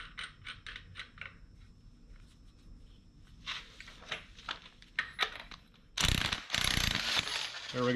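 A ratchet clicks in quick bursts while a pulley puller draws a pulley off an LS V8 engine, close and crisp, followed by a louder clatter as the part comes free.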